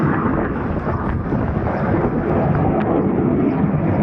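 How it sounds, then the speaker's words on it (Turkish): An F-16 fighter jet passes with a steady, heavy, rumbling roar that fills the whole few seconds at an even loudness, with no voices over it. "Aha F-16 jeti geçiyor."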